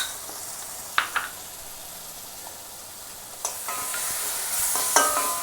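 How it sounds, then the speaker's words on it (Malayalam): Chili and coriander paste hits hot oil for a Kerala ginger curry (inchi curry), giving a soft sizzle broken by a few sharp spoon scrapes and stirring clinks. The frying grows slightly louder toward the end. "അതിലേക്ക് പേസ്റ്റാക്കി വെച്ചിരിക്കുന്ന മുളകും മല്ലിയും കൂടെ അതിലേക്ക് ഒഴിച്ച് കൊടുക്കാം."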